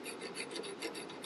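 A file rasps steadily against a rusty, hardened kickstart gear from a 1958 XL Sportster, a close, continuous scratchy stroking with faint rhythmic pulses and no speech.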